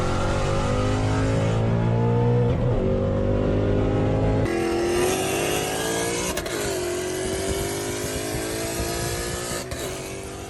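A manual Ford Mustang S550 revs and accelerates hard, its engine climbing through gears with rising pitch, a sharp shift break midway, then pulling again, loud and close with no voices.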